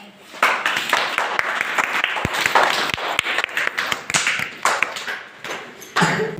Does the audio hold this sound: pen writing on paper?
no